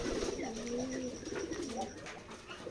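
Pigeons of local and foreign breeds coo on a pigeon farm in Keshabpur, Jessore, with low rolling calls repeating near and clear over a faint background of other birds.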